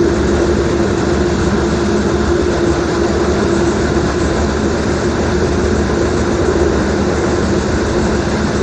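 Inside a moving subway train, a steady, loud rumble of wheels and car noise continues without a break from start to finish, with no voices.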